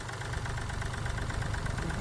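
Mahindra Bolero Power Plus diesel engine idling with vibration and a knocking, misfiring injector, a steady low rhythmic knock and rumble at fairly low level with no talk.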